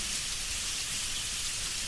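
Steady rain falls on a surface in a dense, even hiss, close and continuous with no pauses and no voices.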